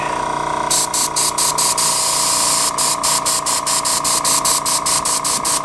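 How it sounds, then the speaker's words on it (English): Rapid repeated bursts of spray paint hiss onto the roof of an N scale model locomotive, a short burst followed by a longer string of quick pulses, loud and close over a steady background hum. "Now I think I'll spray a little bit on the roof"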